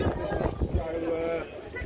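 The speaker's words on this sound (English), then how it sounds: "Do apologise about the wind." Wind gusting across an outdoor microphone at a demonstration in Oldham, a low rumbling buffet that swells and fades beneath a voice.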